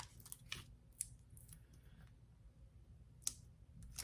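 Scissors make quiet, crisp snips while cutting a craft piece for a flamingo project, a handful of separate close clicks spaced irregularly over low background hiss.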